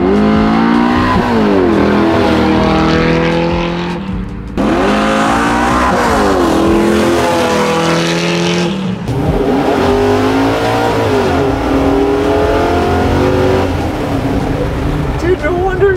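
A 600 hp Chevy C10 square body truck accelerates hard close by, its engine rising in loud revving sweeps through several pulls with brief gaps between them.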